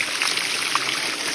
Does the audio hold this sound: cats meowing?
no